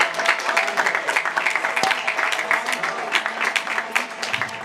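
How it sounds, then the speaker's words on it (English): Audience applause fills a graduation ceremony hall, a steady dense patter of many hands clapping at moderate distance, continuous throughout without letting up. "Please join me in a round of applause to express our heartfelt gratitude to our PTSA"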